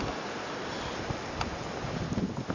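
Wind blowing through a snow blizzard with drifting snow, a steady broad roar with gusty buffeting against the microphone, continuous and moderately loud with no talking.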